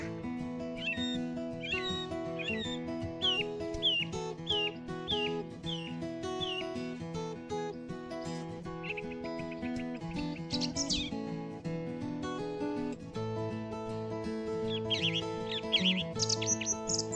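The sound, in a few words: song thrush singing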